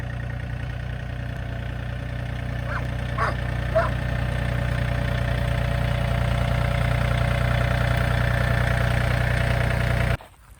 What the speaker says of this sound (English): I love having a tractor.